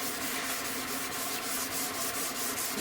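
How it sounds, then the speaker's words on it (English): Steady, continuous hand sanding of a polyurethane coat on a guitar body, sandpaper rubbing back and forth in a quick rhythmic scrape with no talking. "So I'm just going to help myself and sand this."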